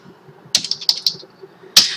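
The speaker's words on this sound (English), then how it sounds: "enter a list from the keyboard" Fingers type a short run of keystrokes on a computer keyboard, a cluster of quick clicks followed by a pause and then one firmer key press, close and crisp with no talking.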